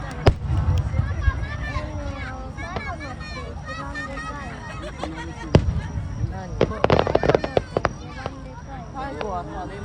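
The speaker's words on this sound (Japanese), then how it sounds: "最後はね、もうね、空いっぱいに花火。" A long fireworks show bursts overhead with repeated booms and crackles, denser toward the end, while a crowd of spectators chatters and people nearby talk.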